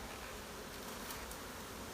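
Honeybees buzz steadily around an open hive during queen marking, a dense, continuous hum of many insects close by with no talking.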